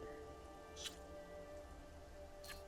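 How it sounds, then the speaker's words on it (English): Rain in the video game Horizon Forbidden West, a very faint steady patter of raindrops with a couple of brief brighter splashes, quiet and continuous with no voices. "It's raining."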